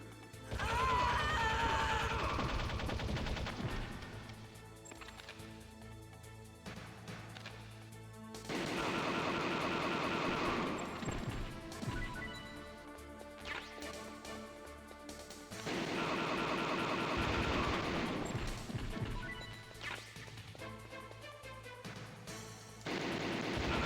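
Bursts of gunfire and crashing effects from the Metal Gear Solid video game come in loud waves over dense in-game music and mechanical noise for the whole stretch, with no talking.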